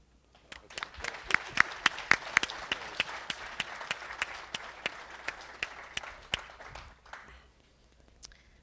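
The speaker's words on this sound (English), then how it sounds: "we'd like to give you a round of applause and say thank you for your loyalty" An audience applauds million-mile truck drivers at a driver appreciation event, crisp individual claps building into a scattered round of applause that tapers off near the end.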